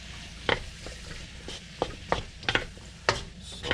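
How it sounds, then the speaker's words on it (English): Mushrooms stir-frying in an electric wok, with sharp scraping and clattering stirs at irregular intervals over a low, steady sizzle, close up and alone without talk. "Now I'm going to add some mushrooms."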